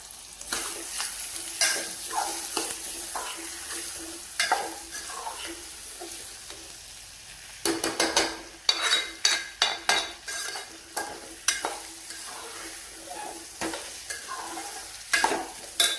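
Khichdi is tempered and stirred in a pan, with steady frying sizzle under repeated scraping and clinking of a spoon against the metal pan, the stirring strokes coming in quick irregular bursts throughout.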